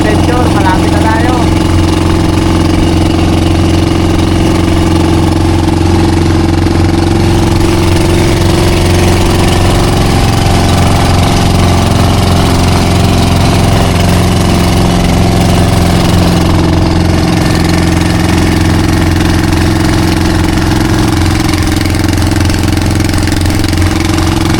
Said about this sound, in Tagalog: Bali, inaayos po pala ni